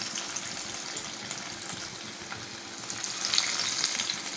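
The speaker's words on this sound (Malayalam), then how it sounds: "നമുക്കിതൊന്ന് അതിനകത്തിട്ട് വറുത്തെടുക്കാം." Beef brain fingers deep frying in hot oil, a steady close sizzle and bubble that swells slightly toward the end, with no talk.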